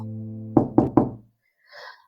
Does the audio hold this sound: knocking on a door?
yes